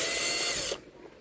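A screwdriver ratchets a screw loose from a NEO Basic 3230 laptop, a close, fast mechanical whir that stops abruptly partway through, leaving quiet.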